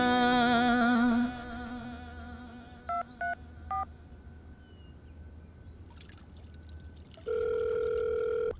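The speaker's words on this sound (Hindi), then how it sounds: "ये बुढ़ऊ का फोन आ रहा है, क्या करूं?" A phone's ringtone-like electronic tones sound in short bursts, then a steady electronic tone holds at the end, with quiet background noise between.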